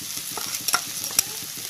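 A spoon scrapes and stirs a frying curry of sautéed tomato and onion as chili powder, coriander powder, turmeric, masala and salt go in, producing quick scraping strokes over a soft continuous sizzle.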